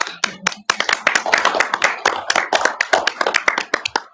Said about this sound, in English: While we're giving rounds of applause